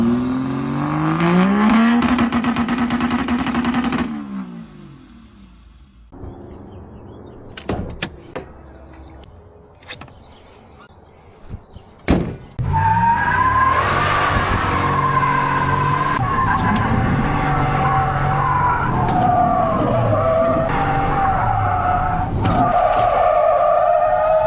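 A truck revs hard with tires squealing and skidding in loud bursts, then goes quiet between a few sharp knocks and bangs. It then roars back into a sustained, high-revving whine.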